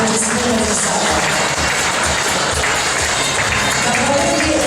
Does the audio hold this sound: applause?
yes